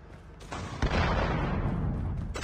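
A tank fires in Call of Duty Mobile with a heavy, close boom, followed by a dense rumbling roar of battle noise and distant gunfire that stays loud to the end.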